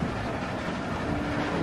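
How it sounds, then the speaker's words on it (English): A train rumbles along in The Walking Dead: Season 1 game, a steady low roar with rushing wind-like noise, loud and continuous with no voices. "Stop the train, man."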